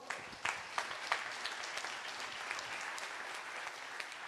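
An audience at a city-focused conference breaks into applause, a steady, moderately distant clapping of many hands with a few sharper claps near the start and no talking.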